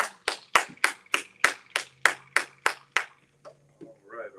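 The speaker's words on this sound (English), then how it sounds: "Hand clap as he comes" Hand clapping at a church financial literacy night, about eleven crisp evenly spaced claps in a steady rhythm, close and fairly loud, then stopping, followed by a brief murmur of voices.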